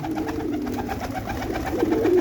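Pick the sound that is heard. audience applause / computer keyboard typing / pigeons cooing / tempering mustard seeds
pigeons cooing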